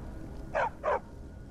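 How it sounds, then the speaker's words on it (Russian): A dog in the video game Skyrim gives two quick, close barks in succession over a faint background hum. "Ты маленький бездомный пес."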